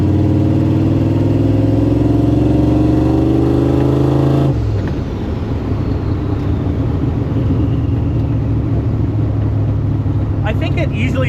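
A turbocharged AMC Jeep engine revs up hard and loud, its pitch climbing steadily for a few seconds before cutting off into a lower rumbling run, with people talking inside the cabin.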